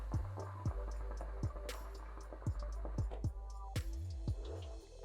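Low, throaty hookah water bubbling in irregular gurgling bursts, with a few deeper rolling bubbles near the end, close and fairly soft.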